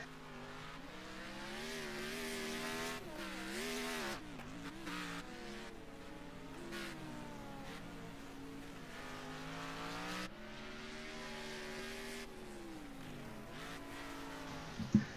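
A race car on a local gravel dirt track revs and slides, engine pitch rising and falling through corners with tire scrubbing, a continuous loud run with a sharp knock near the end.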